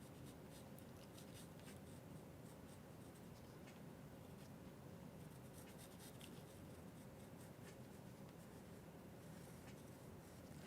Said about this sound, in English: I'm going to go ahead and add with a pencil. This is a 2B pencil.